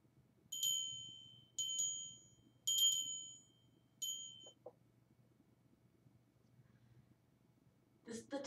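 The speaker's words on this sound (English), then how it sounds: "So I also added a bell to this." A small bell rings four times in a quiet room during a goddess ritual, each ding clear and ringing out before fading, with a faint knock and a soft rustle afterward.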